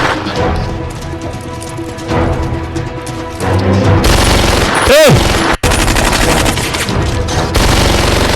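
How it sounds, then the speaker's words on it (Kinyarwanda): Bursts of gunfire cut through a loud, dense film soundtrack with music, including a heavy boom and a rapid volley near the middle. "umva amajwi y'imbunda"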